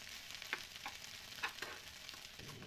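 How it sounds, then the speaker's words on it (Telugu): Pre-boiled sweet corn kernels frying in ghee with curry leaves make a quiet, even sizzle, with a few soft stirring scrapes about a second apart and a sudden louder clatter right at the end. "ఇప్పుడు ఇందులోకి మనం ముందుగా ఉడికించుకున్న స్వీట్ కార్న్ గింజలను వేసుకొని వేయించుకోవాలి."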